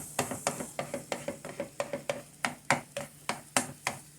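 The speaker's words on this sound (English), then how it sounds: "This is just me scrambling up mayonnaise." A utensil scrapes and taps steadily in a pan as eggs are scrambled with mayonnaise, a 1972 recipe, giving quick, regular stirring strokes with a faint sizzle underneath, close by and with no talking.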